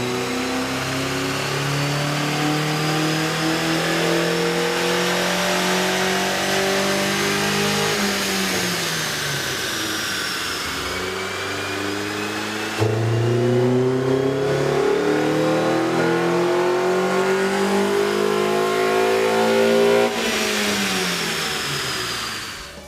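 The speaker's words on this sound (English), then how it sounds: "With the air intake installed, we ran the vehicle on the dyno to test the sound comparison versus the stock intake." A car engine with a K&N cold air intake revs on a dynamometer, loud and continuous, with its pitch climbing in long sweeps, dropping back near the middle, then rising again.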